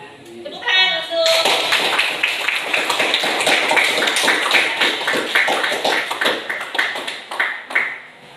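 A brief voice gives way to a group in an Indonesian classroom or training session clapping in a rough, rhythmic pattern, with close, percussive claps continuing for several seconds before trailing off.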